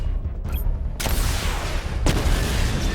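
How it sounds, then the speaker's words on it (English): Batmobile missile barrage firing in Batman: Arkham Knight, loud close booming blasts with sudden onsets around one and two seconds, each followed by a sustained roaring rumble, with no talking. "Destroy targets to charge up weapon energy and activate missile barrage."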